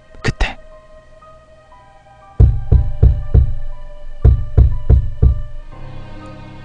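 Loud knocking on a door: two sharp raps, a pause, then two bursts of four heavy, rhythmic bangs.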